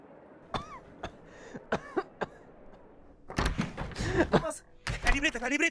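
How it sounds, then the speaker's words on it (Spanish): Dry coughing from a sick patient in a short film about Daniel Alcides Carrión, several sharp separate coughs close by, then a denser stretch of coughing and strained breathing mixed with voices. "Tiene tos seca constante y una pérdida irregular de líquidos."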